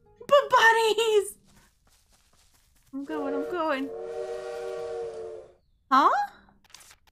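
A bird in the video game Little Witch in the Woods imitates a train whistle, giving two loud, sustained whistle-like calls with a short spoken line before them.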